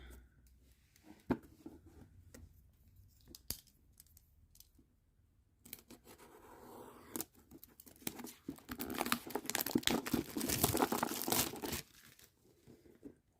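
Rustling and crinkling as the packaging of a wooden puzzle is opened, with scattered taps and snips early on and a longer stretch of louder plastic crumpling and tearing near the end, close and fairly quiet.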